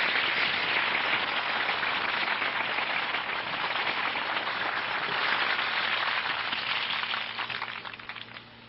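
Loud, dense applause from a large audience at a 1996 Holi festival discourse, a steady wash of clapping that continues throughout and fades at the end.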